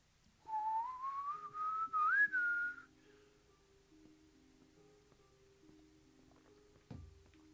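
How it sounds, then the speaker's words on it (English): Whistling in the Kingdoms of Amalur: Reckoning video game, a single rising whistled note lasting about two seconds, clear and fairly close, followed by a faint low hum and a soft thunk near the end. "Let's hope we get our whistle."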